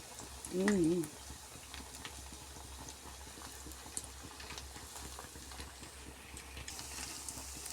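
Rice and coriander snack frying in a pan, a faint, steady low crackle and bubble running throughout, with a brief louder voice near the start.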